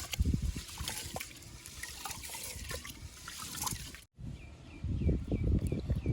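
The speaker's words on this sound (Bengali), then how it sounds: "ভাতের চাল ধুয়ে দিয়ে তারপরে আলুগুলো খোসা ছড়াবো" Rice grains being washed by hand in water outdoors under a tree, a steady close sloshing and trickling with a short pause partway through and faint bird chirps in the background.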